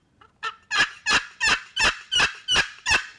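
A handmade wooden turkey box call styled after a Neil Cost design, played alone and fairly near: one short soft lead-in, then seven loud, evenly spaced raspy yelps in a steady rhythm.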